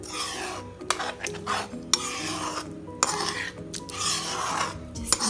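A spoon stirs whisked fresh curd into malai kofta gravy in a pan, making repeated scraping and rubbing strokes against the metal in uneven bursts, close and moderately loud, with a faint sizzle underneath and no voices.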